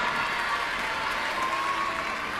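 An arena audience at the European Gymnastics Championships applauds a gymnast, steady dense clapping from a large crowd throughout, without a break.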